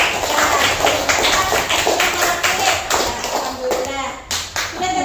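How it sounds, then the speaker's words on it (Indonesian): Classroom students clapping hands together, a dense burst of applause with a voice mixed in. "Tepuk tangan."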